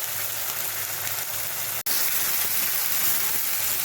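A spice paste fries in a pan with a steady, close sizzle, broken by a brief cut partway through before the hiss resumes.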